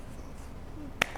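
A single sharp finger snap cracks out close and loud near the end, following a second of quiet room tone.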